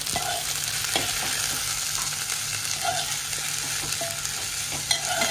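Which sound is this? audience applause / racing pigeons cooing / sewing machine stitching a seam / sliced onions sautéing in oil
sliced onions sautéing in oil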